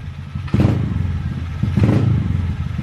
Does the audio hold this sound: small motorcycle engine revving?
yes